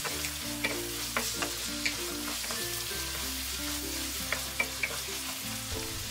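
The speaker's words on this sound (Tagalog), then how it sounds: "Haluin ulit at hayaan itong maluto for 5 minutes." Filipino-style spaghetti sauce seasoned with salt and pepper keeps up a steady sizzle in a pan while a utensil stirs it with regular scraping taps; close, with music underneath and no talking.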